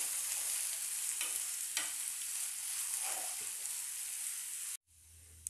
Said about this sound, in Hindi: डालेंगे हम 2 मीडियम साइज के प्याज बारीक कटी हुई और प्याज को भी सेक लेंगे